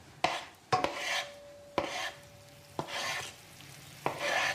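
Anchovies sizzling in a hot pan while being stirred, with a steady fizzing sizzle broken by several sharp scrapes and knocks of the utensil against the pan, close and clear with no talk.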